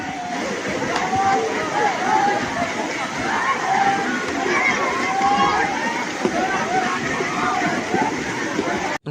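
Boys splash and play in crowded lake water. Steady sloshing and splashing mix with a busy babble of shouting voices close by, all continuous and loud.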